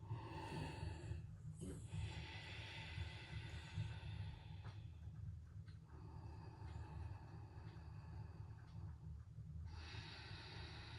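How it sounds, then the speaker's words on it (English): Slow, steady Ujjayi breaths during a yoga warrior pose, each long hissing inhale and exhale flowing continuously and close, with a low rumble running underneath and no talking. "this time we're going to do Ujjayi breathing"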